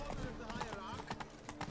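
Horse hooves clip-clop in The Witcher 3, a steady clatter of footfalls mixed with game ambience while a player talks over it throughout.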